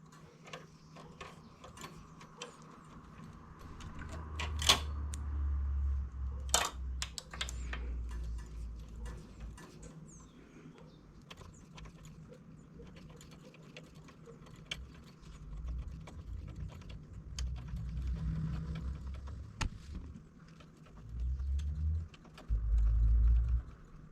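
A knitting machine knits a baby dress with ruffles, giving a long stretch of soft mechanical ticking and clicking, with a few sharper clacks and low rumbling sweeps of the carriage, close and fairly quiet with no speech.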